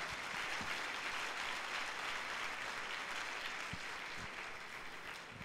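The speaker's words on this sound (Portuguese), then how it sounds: "dê um aplauso ao Senhor Jesus" A church congregation at a Sunday service applauds, dense sustained clapping from many hands filling the room, steady throughout and fading slightly at the end.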